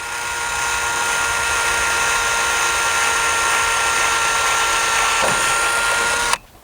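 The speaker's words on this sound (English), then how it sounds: "we're going to pre-drill it just through the plastic Trex itself" A power drill whines steadily for several seconds at a constant high pitch, close up, pre-drilling through plastic Trex railing, then stops abruptly.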